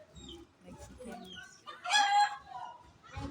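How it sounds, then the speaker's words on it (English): Chickens cluck nearby with a rooster crowing in the middle, a loud, drawn-out call amid scattered clucks and other short fowl noises. "I'm watching my chicken."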